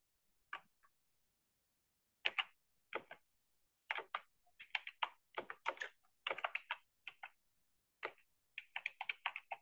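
Bursts of quick typing on a computer keyboard while entering a job title into a website builder, crisp close clicks in short irregular clusters separated by silent pauses, with no voices.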